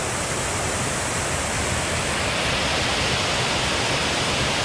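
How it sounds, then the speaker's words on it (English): A man-made waterfall beside a canal at Sand Island Park in Bethlehem, Pennsylvania roars with a steady, loud, unbroken rush of falling water that fills the whole span, with no voices heard. "There is that man-made waterfall"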